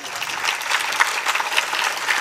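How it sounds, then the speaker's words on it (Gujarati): A crowd at a live Shiv Mahapuran katha in Mahuva breaks into loud, sustained applause, many hands clapping densely and continuously up close, with a few sharper claps standing out. "એકવાર જોરદાર તાળીઓ મારે દક્ષાબેન હાટું પાડી લ્યો"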